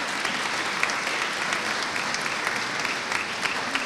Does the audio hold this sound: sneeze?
no